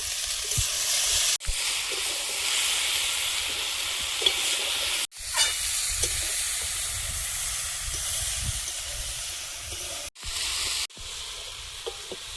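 Winter vegetables for khichuri sauté in a pan with a continuous close hiss and sizzle, broken by a few brief gaps and soft scraping stirs, with no talking.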